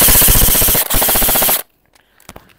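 An airsoft gun fires on full auto in a rapid, loud burst of shots, briefly broken once, then stops abruptly, followed by faint clicks and handling sounds.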